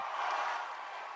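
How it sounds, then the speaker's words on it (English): Audience applause for a slam poet at a Louder Than A Bomb youth poetry slam in Tacoma, a steady dense wash of clapping held at an even level for about a second. "Make some noise for this poet, ladies and gentlemen."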